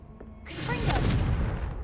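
A Confringo fire spell cast in the video game Hogwarts Legacy bursts in after a quiet start, a sudden loud whooshing blast that swells and rumbles on for over a second.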